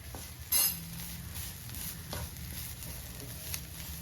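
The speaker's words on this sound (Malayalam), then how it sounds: "നമുക്ക് അരപ്പ് എല്ലായിടത്തും വരത്തക്ക രീതിയിൽ ഒന്ന് നന്നായിട്ടൊന്ന് മിക്സ് ചെയ്ത് കൊടുക്കാം" A spoon stirs a Kerala-style beans mixture with ground coconut spice paste in a pan, giving a soft, steady scraping and light sizzle with a brief louder clatter near the start. No one speaks.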